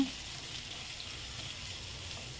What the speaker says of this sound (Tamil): ரெண்டு பெரிய வெங்காயம் அதையும் நல்லா எண்ணெயில் வறுத்து எடுத்துக்கலாம்